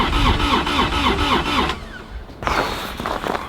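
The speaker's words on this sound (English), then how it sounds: "we're gonna get the Kubota started up and get that warming up" A cold Kubota RTV-X 1100C diesel utility vehicle cranks with a loud rhythmic starter churn that cuts out, falls briefly quiet, then tries to turn over again, close and without talk.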